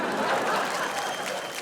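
Studio audience applause on a comedy cooking show, broadband and steady for the whole moment, a dense wash of clapping with faint crowd murmur and no clear voice on top.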